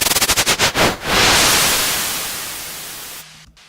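Synthesized white noise from a synth operator, run through reverb and auto-pan, opens as a rapid train of pulsing bursts that slows, then swells into a sustained hiss that fades and cuts off into a brief reverb tail.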